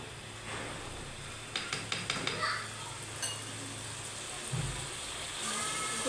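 Potatoes and black-eyed beans fry in a pan with a steady soft sizzle, broken by a few quick clinks and stirring scrapes near the middle and one low thump toward the end.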